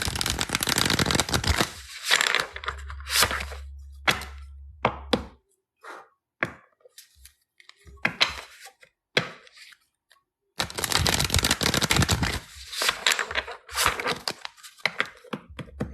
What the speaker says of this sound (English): my life just consisted of this dude is shuffling cards